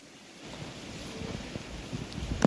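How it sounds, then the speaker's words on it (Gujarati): Wind blows steadily outdoors in open countryside near a river, a low rumbling rush that builds gently with occasional stronger gusts, fairly quiet and with no one speaking. "પવન તો હજી કન્ટિન્યુ છે"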